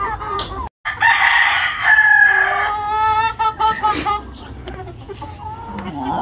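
A rooster crows loudly nearby, followed by several short clucks from free-range chickens, with a brief gap before the crowing starts.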